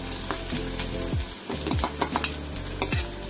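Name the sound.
onion frying in hot oil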